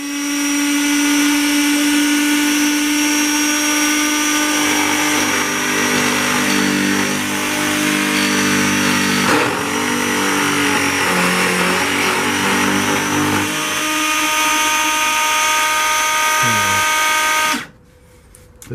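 A cheap Chinese benchtop milling machine cuts metal with a steady, loud mechanical whine and dense harmonic hum that holds for about seventeen seconds, with grinding texture and shifts in pitch as the cut progresses, then cuts out abruptly near the end.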